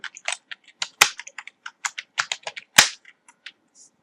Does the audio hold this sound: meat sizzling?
no